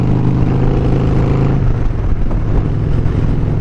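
A cold car engine idling and revving as the driver forces a reluctant shift into third gear, a loud close rumble that dips briefly midway, with no talking.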